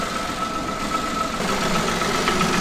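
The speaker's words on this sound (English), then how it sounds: "Obviously, it's only just started the engine." A Peugeot 107 engine idles steadily just after starting, with a faint mechanical ticking and a low hum that grows slightly louder toward the end, no voices.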